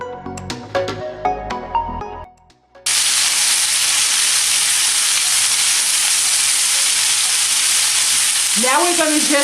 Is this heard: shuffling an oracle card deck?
no